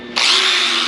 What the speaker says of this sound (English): Grind it.